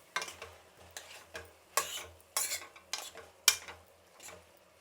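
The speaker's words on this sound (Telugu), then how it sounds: "ఇప్పుడు దీన్ని కలిపేసాను" A ladle stirs ridge gourd, tomato and raw mango curry in a pan, giving a series of distinct close scraping and clinking strokes at an uneven rhythm, with a faint sizzle between them.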